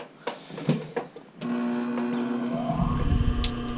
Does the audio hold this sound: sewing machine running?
yes